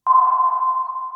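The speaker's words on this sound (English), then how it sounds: "when submarine sonar and destroyer sonar sounded like this" A World War II-era submarine or destroyer sonar ping sounds as one loud, pure single-frequency tone that starts sharply and rings steadily, fading slightly as it sustains.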